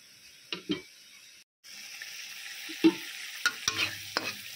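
A spice paste is stir-fried with a splash of water for a prawn malai curry, with spoon scrapes and stirring knocks over a low sizzle, a brief silent gap, then sharper scraping strokes.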